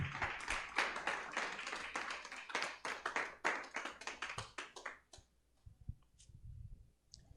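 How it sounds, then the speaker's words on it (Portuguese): A church congregation claps hard during a sermon, a dense burst of many hands that thins out to scattered claps and fades after about five seconds, leaving low background noise. "Vamos aplaudir o Senhor bem forte."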